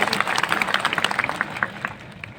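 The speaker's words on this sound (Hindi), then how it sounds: "उसके लिए सबसे पहले आप ताली बजा के अभिवादन करिए।" An audience at an outdoor World Tribal Day gathering under tents with a stage and microphone, clapping in scattered bursts that fade out over a couple of seconds, with a voice faintly beneath.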